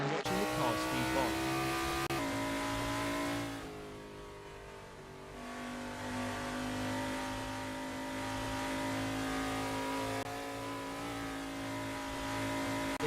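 Race cars in a racing sim roar past with loud, sustained engine drones and revving that rise and fade over several passes, with a voice talking throughout.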